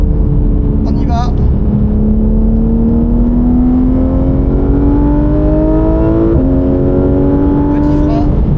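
A car lapping a racing circuit during a track-driving coaching session, its engine accelerating in one long, steadily rising tone, loud and close as if heard from inside, with a brief dip before climbing again.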